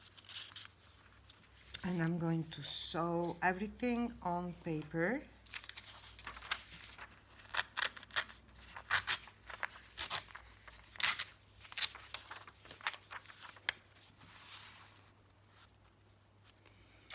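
Paper being cut for a small handmade journal on herbal remedies. A person talks at first, then scattered snips and papery rustles follow, fairly close and quiet, with faint room noise between them.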